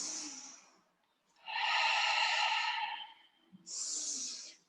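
Slow, deep yoga breaths taken while holding an airplane pose, two long drawn inhales and exhales close to the mic, each a soft airy rush separated by a short pause.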